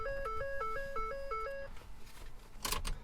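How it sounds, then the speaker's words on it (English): A simple key programmer on a Ford F150 gives off a short run of alternating two-note electronic beeps, close and clear, then a brief burst of clicking. "The locks clicked and the programmer toned"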